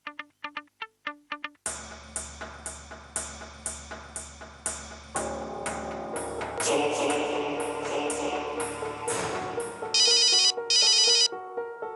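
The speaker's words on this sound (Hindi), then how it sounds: "ऋषि, ये हॉस्पिटल है, प्लीज आप अपना मोबाइल बंद रखिए" A mobile phone in a hospital plays a melodic electronic ringtone, starting with sparse chime notes, then building into a fuller repeating tune that runs on unanswered.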